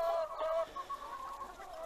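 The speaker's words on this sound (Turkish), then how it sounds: "Çiftliğimize geldik, tavukları saldık." Free-range chickens clucking on a farm, a few hens calling in short overlapping bursts close by, with a steady cluttered backdrop and no talking.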